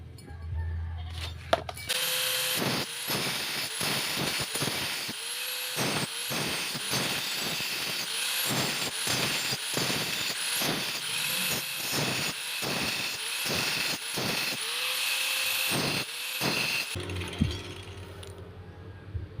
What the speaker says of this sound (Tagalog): first step ay grinder muna tayo ng isa